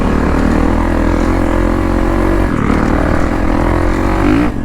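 A 450 dirt bike engine idles steadily while the bike rolls along, a loud, close, continuous drone with a slight wavering pulse and no break over several seconds.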